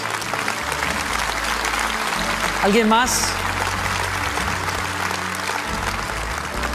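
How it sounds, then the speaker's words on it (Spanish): Congregation at a Christian church service applauding steadily throughout, a dense continuous wash of clapping with a voice speaking over it and a brief sung or called phrase near the middle. "Denles un buen aplauso a ellos, a nuestros hermanos."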